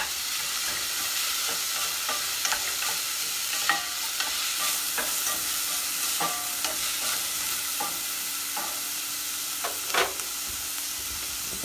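Freshly ground pepper sautés in a hot pan alongside halibut, giving a soft continuous sizzle with occasional scrapes and taps of a utensil stirring, steady and fairly quiet, with no voices.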